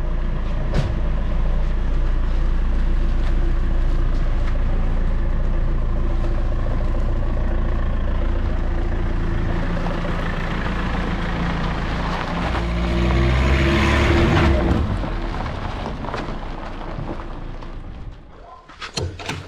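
An old MT-10 motorcycle, left unstarted for 40 years, rumbles steadily as it pulls out, a loud, continuous low engine drone that swells briefly before fading near the end.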